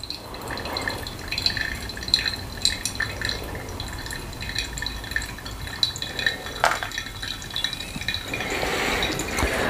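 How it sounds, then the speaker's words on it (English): Hot water trickles slowly and gently onto ground Colombian coffee in a pour-over brewer, a soft steady dribble with small drips and faint glassy tones, growing slightly fuller toward the end. "Try and slow that water down as much as possible."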